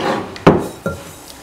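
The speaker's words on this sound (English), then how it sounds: "let's just mix that together" Apple brown Betty ingredients are mixed in a bowl, with a few close, distinct scraping knocks of a utensil against the bowl spaced apart.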